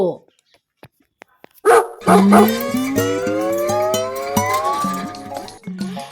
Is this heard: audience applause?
no